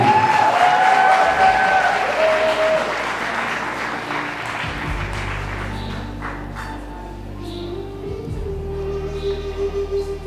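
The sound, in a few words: wedding guests applauding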